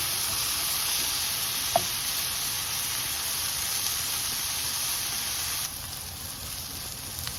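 Chicken tikka pieces sizzle steadily in a pan as they are turned to cook on every side, a continuous broad frying hiss with a faint clink and a slight drop in level near the end.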